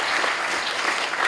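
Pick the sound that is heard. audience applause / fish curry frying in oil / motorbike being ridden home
audience applause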